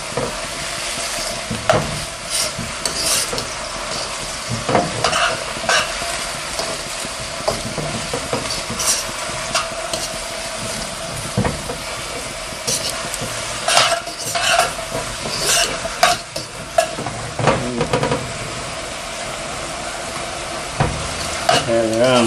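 A spatula scrapes and stirs through sizzling food in a new carbon steel wok, with steady frying hiss and frequent metallic clinks and scrapes against the pan.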